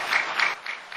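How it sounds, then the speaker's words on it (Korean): A church congregation claps to congratulate the newly baptized during a Korean worship service, a short burst of applause that swells in soft pulses and then thins out. "우리 오늘 세례받은 분들 축하의 박수를 한번 드리겠습니다."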